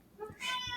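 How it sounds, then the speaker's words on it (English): A house cat gives a short, close meow, rising and then falling, heard indoors. "Now, you'll notice that was my cat."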